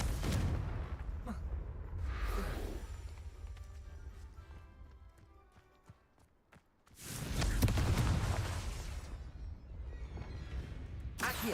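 Explosive Confringo spell blasts in the video game Hogwarts Legacy: two loud, heavy bursts, the first shorter, then a quieter stretch that drops to near silence before a second big blast rumbles on.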